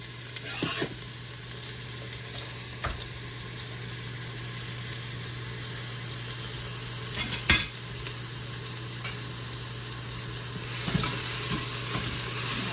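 Onion and garlic sauté in oil inside a pressure pot, giving a steady moderate sizzle with occasional clinks and scrapes of stirring and a brief louder knock midway, no speech.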